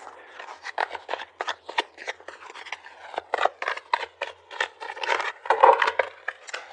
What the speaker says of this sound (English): Let me shuffle up the tarot for you guys.